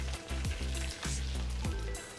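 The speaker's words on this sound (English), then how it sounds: "So now we just need to finish them in a pan. We're going to crisp up the outsides" Potatoes crisping in hot duck fat in a pan give a steady, close sizzle, a loud continuous hiss with soft rhythmic crackles and no voices.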